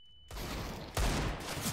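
Desert Eagle pistol fire in the video game CS:GO: a sudden burst of loud, harsh shots erupting after a brief quiet, with a heavier blast about a second later, close and unaccompanied by talk.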